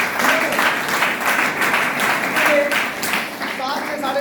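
An audience claps for their mentor, Madan sir, in a steady, fairly loud burst of applause. It swells and eases in waves, and a voice comes through faintly at moments.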